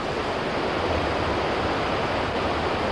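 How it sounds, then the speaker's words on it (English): Horseshoe Falls roars as a steady, dense wash of broadband noise heard up close near the base of the falls, continuous and unbroken with no voices. "The water that flows over the falls has the power of more than 6 million"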